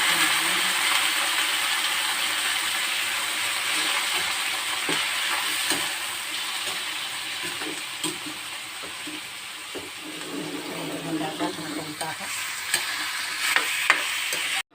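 Marinated chicken for afritada frying in a pan: a loud, continuous close sizzle with scattered clicks and scrapes from stirring toward the end.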